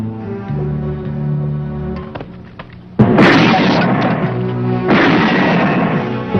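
Gunfire in a Filipino action film scene, a sudden loud burst cutting in after a stretch of music, followed by heavy sustained booming and crackling that swells again toward the end.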